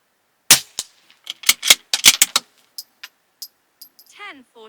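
Sharp .22LR rifle shots from a Bergara B14 firing Aguila 38-grain subsonic hollow points, a quick cluster of close cracks followed by a few spaced single reports, with a brief tonal chirp near the end.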